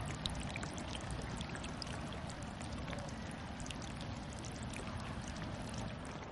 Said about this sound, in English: the water comes out over there, having been nicely purified